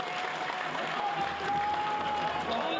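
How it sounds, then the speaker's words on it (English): An audience at a Labour Party town hall meeting claps, steady dense applause filling the room without a break, with faint voices underneath. "I think we should clap for ourselves at this point because we really did well."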